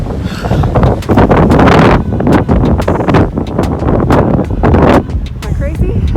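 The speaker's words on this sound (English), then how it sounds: "It is so windy already" Strong wind buffeting the microphone on a hiking trail up Guadalupe Peak in Texas, loud gusty roaring rumble that swells and dips continuously, with a person's voice faintly mixed in.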